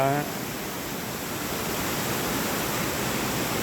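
Steady broadband rush of a small waterfall along a trail in Khao Yai National Park, Thailand, continuous and fairly close, with a brief voice at the very start.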